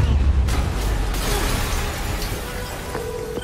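A loud explosion in the Spider-Man PS4 video game, a dense booming burst at the start that rolls into a broad, sustained rumble and debris noise, fading slightly over a few seconds.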